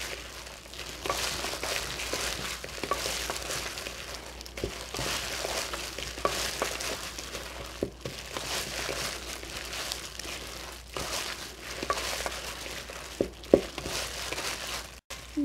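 Shrimp and fish paste, made with the fish 임연수어 for dumpling filling, is kneaded by hand in a bowl, giving soft, continuous squelching and slapping sounds at close range with no talk.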